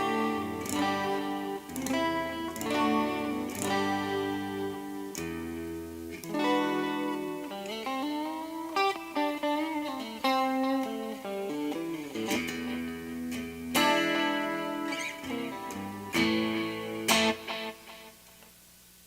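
Donner DST550 electric guitar on its single-coil pickup setting, playing melodic lines and chords with clear, sustained notes and steady picking, loud and alone with no talk throughout.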